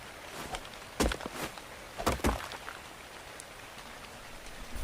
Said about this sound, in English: It's been raining too much on this map.